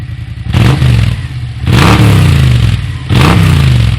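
A Sea-Doo GP800 jet ski's 839 cc V2 engine revs in three loud bursts, each rising then holding at a throaty roar, with quieter idling between them.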